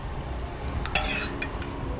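A ginger jaew dipping sauce is mixed with thick khao pun noodle water, making soft, brief stirring clicks and taps against the bowl over a steady low background hum.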